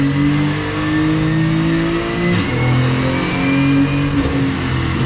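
A Porsche 935 race car engine rises and falls in pitch through a downshift, loud and continuous with a strong droning tone close by.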